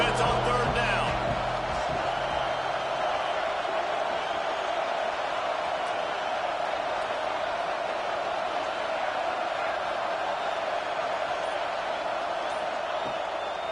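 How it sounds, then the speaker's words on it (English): A stadium crowd at a football game roars for the defense on third down, a dense, steady wall of cheering and noise that barely rises or falls throughout. "Decibels rising as the crowd gets behind this defense on third down"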